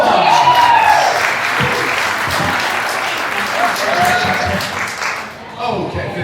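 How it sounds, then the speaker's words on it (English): Applause from the audience at a comedy mentalist show as three volunteers come up, a loud burst of clapping with a few brief voices and whoops mixed in, easing off toward the end. "Give these three a big round of applause."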